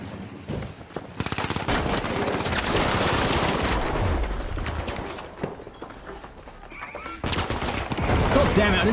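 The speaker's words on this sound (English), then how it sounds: "I didn't see the turret until it was already firing at me" A turret firing in the shooter The Finals, rapid bursts of gunfire crackling loudly across most of the stretch, briefly dropping away before another loud burst near the end.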